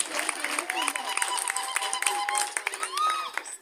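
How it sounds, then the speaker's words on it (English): An audience claps and cheers for an award recipient at a ceremony honouring cohorts of programme beneficiaries, with steady scattered applause mixed with voices and high, wavering calls throughout. "Clap for her."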